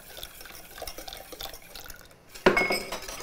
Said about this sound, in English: So I'm gonna whisk this in and make sure as you're whisking that you're getting into those corners